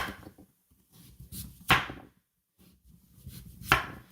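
A knife cuts through a firm raw rutabaga in two sharp, close chops a couple of seconds apart. Soft handling noises from the board fill the gaps between the cuts.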